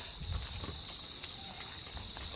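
A steady, high-pitched drone of cicadas fills the air continuously, with faint low rumbling underneath and no voices.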